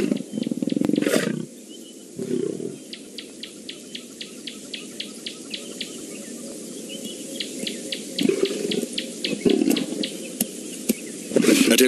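An eleven-year-old lioness roaring in the wild, deep rumbling bursts opening and closing the sequence, with crickets chirping steadily in between.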